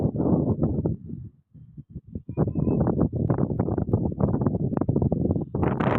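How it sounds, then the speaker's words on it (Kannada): Strong wind buffets the microphone on a hillside, loud rumbling gusts that rise and fall with a brief lull, heard close and alone. "ಎಷ್ಟು ಗಾಳಿ ಇದೆ ಅಂದರೆ ನಮಗೆ ಭಯ ಆಗಿಬಿಟ್ಟಿತ್ತು"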